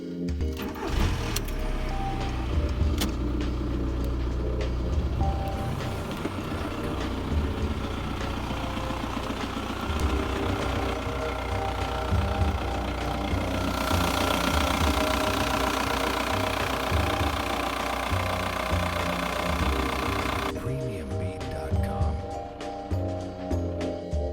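A VW Polo IV with a 64-horsepower 1.9 SDI diesel engine runs steadily, a loud, continuous clattering drone that shifts in tone partway through, with no pauses.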